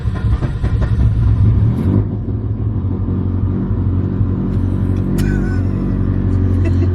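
A Mitsubishi Lancer Evolution VIII engine rumbles and revs with a deep, throaty titanium exhaust note, loud and close, steady throughout.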